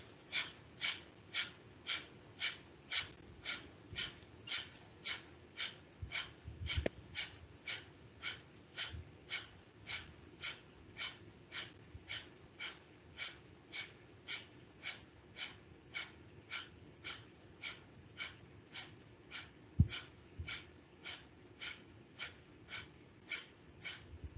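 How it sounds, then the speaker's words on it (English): Rapid Breath of Fire yoga breathing through the nose, a long run of sharp, evenly spaced exhalations at about two per second, close and steady, with no talking. "to do 1 minute of Breath of Fire"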